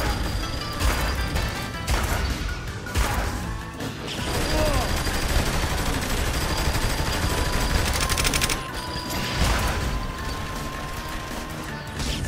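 Shotgun fire in a video game arena: rapid, repeated booming blasts and crashing impacts packed densely together, loud and continuous with game effects throughout.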